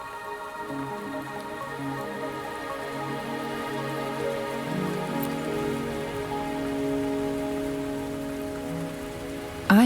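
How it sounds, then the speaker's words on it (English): Steady rain falls in the video game Wuthering Waves, a continuous patter on surfaces under a sustained tonal music bed, ending with a brief louder accent. "Are you trapped here by the rain?"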